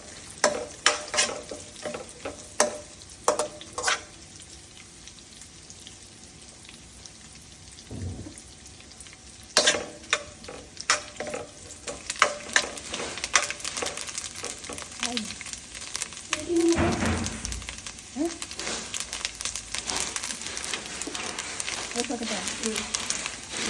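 Cashew nuts fry in a pan for Onam payasam, crackling and popping in bursts with stirring scrapes, sometimes sharp and close, while a person talks intermittently.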